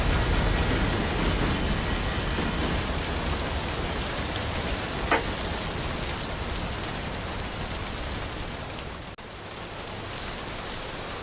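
Steady rain in a railroad train simulator game, a dense continuous hiss of falling drops with a faint low rumble beneath, loud and even throughout, briefly dipping near the end.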